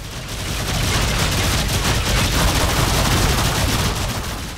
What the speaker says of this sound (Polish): Co to tak do mnie strzela?